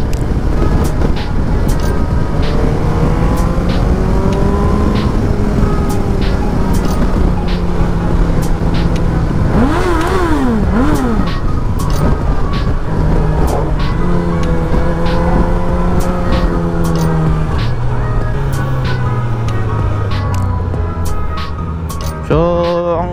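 A Suzuki GSX-S1000GT, a 1000cc, 150 horsepower motorcycle, cruises along an expressway, its engine droning loud and close with pitch rising and falling through gear changes, all under constant heavy wind and road roar.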